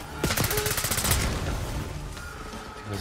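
Rapid automatic gunfire in Call of Duty: Black Ops 6, a dense burst of close shots lasting around a second, followed by scattered distant reports and lingering battlefield noise.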